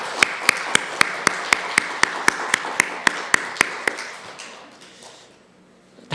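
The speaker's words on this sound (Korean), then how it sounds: "우리 함께 환영의 박수를 한번 쳐드리도록 하겠습니다." Church congregation clapping in a steady, evenly spaced rhythm over a soft wash of room noise, the beats sharp and regular before fading away near the end.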